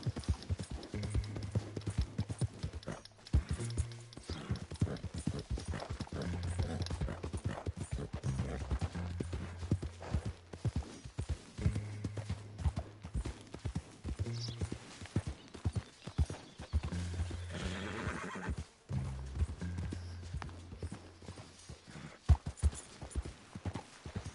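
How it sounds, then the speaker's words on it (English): Rapid hoofbeats of a horse in the video game Red Dead Redemption 2 clip-clop continuously in a fast galloping rhythm, with occasional brief pauses and faint background sounds. "This horse is wowzers fast."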